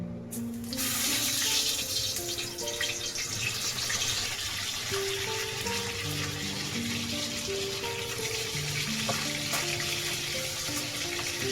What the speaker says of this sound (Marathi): तेल गरम झालंय त्याच्यात सोडूया आपले सुरमई